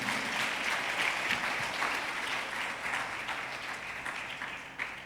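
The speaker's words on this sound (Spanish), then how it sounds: "Dele un aplauso al Señor si usted está entendiendo." A church congregation breaks into sustained applause at a Spanish-language sermon, a dense, even wash of many hands clapping that holds steady and then tapers slightly toward the end.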